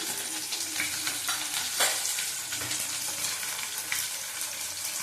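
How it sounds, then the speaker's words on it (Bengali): Nigella seeds crackle and sizzle in hot oil alongside frying fish, a steady close-up spitting hiss with a few sharper pops and faint stirring scrapes. "এখানে কালো জিরে ফোড়ন দিয়ে দিলাম।"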